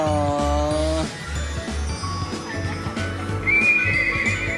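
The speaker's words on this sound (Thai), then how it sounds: "เสียงม้าร้อง เสียงม้าร้องค่ะ" A horse neighs with a long, loud whinny near the start, followed by rhythmic mechanical clip-clop beats, jingling and whistle-like tones, suggesting a toy or ride at an amusement setting.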